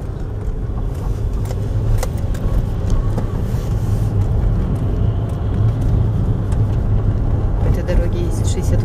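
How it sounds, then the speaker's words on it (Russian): Scheduled route bus on the badly damaged, broken-asphalt Odesa–Yuzhny road, giving a continuous low engine rumble with road noise that stays steady at moderate distance throughout. "Мы видим, едет рейсовый автобус."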